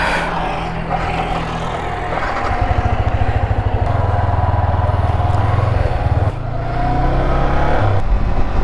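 A motorcycle engine runs close by, chugging with a rapid pulsing throb that rises as the rider throttles up, dips briefly, then climbs again.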